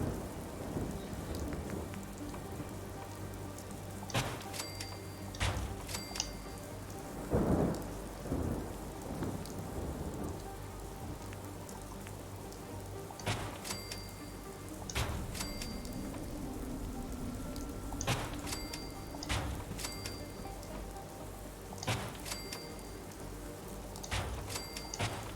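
Rain and thunder in the video game Fallout 4: a steady rainfall hisses throughout while several sharp thunder cracks and rumbles break out at intervals, loud and close, with no one speaking.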